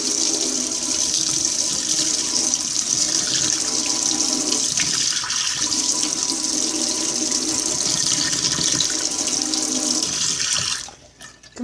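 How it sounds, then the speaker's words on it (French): Kitchen tap water runs steadily onto a knife being rinsed, a continuous close splashing hiss that holds for about ten seconds before cutting off abruptly at the end. "je vais venir ici et je vais rincer mon couteau."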